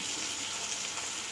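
A beef burger patty sizzles and fries in a pan, a steady dense hiss throughout with a brief louder clack right at the end.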